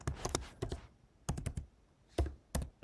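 Bursts of computer keyboard typing while writing PHP code, clustered keystrokes in quick runs separated by short pauses, close and clear with no talking.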